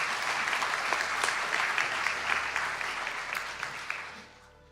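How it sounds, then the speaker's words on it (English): At a spring conferring ceremony in Donegal, a hall of guests claps for graduates, even sustained applause with some sharper individual claps, tapering off into quiet at the end. "Could we all give a round of applause"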